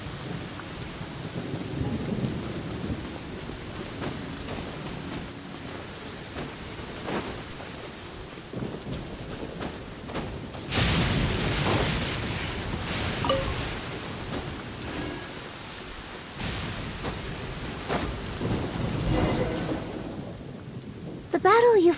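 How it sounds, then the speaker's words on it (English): Steady rain with rolling thunder in the video game Genshin Impact, a continuous wash of rainfall broken by deep rumbling thunder claps, the loudest around the middle and near the end. "I'm used to the rain, but you should probably use an umbrella."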